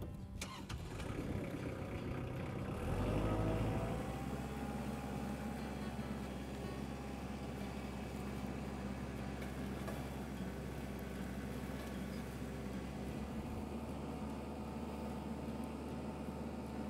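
A tractor engine turns over and settles into a steady low idle, close and continuous, with a mechanical hum running to near the end and no voices.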